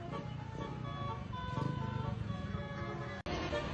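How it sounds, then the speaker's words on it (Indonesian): Buses on a highway sound telolet horns, playing bright, tonal melodic phrases over steady engine and road noise, with a brief dropout near the end. "bus yang berada di belakangnya merespon dengan memainkan klakson telolet mereka saat melintas di depan perekam video"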